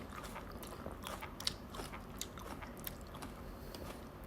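Biting and chewing a queen tomato dipped in chili salt, soft crunchy bites close to the mic over a steady background hiss, with a sharper bite near the middle.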